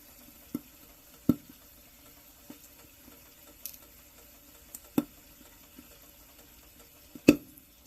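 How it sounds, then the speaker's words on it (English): Amber jelly roll mushrooms popping while frying in a pan with vegetarian chorizo, scattered sharp pops and crackles at irregular intervals over a quiet low sizzle, one louder burst near the end. "Just watching these little babies pop in the pan."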